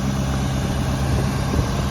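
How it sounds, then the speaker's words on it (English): A Ford F-250 Lariat with the 6.7 L diesel engine running, a steady low rumbling idle heard up close, even and unbroken with no voices. "You can hear that engine charging up right now."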